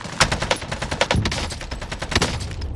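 Rapid automatic gunfire comes from a gun in the video game Warzone. Close, loud bursts of shots run almost without a break, with sharp reports repeating fast over a steady din.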